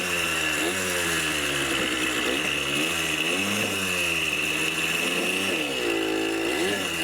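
A 50-year-old dirt bike engine running, a buzzy two-stroke-like drone close by that revs up and down repeatedly, with pitch swooping over a steady high whine.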